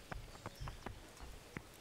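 Horse hooves clip-clop on the ground in Kingdom Come: Deliverance, a handful of soft, fairly quiet, irregular steps against a low background hum.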